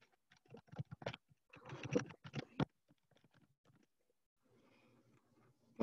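Keys on a computer keyboard clack in short irregular bursts, with a louder cluster in the middle, then quiet with only faint rustling and a sharp knock at the end.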